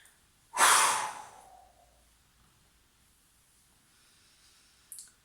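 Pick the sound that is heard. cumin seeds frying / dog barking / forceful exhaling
forceful exhaling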